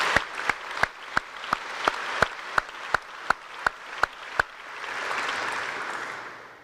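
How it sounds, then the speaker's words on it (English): Slow, evenly spaced single claps ring out about a dozen times at a military welcome-home ceremony for returning soldiers, then give way to a softer, diffuse wash of crowd applause. "Please join me in a round of applause for all our employers and community members that support our soldiers."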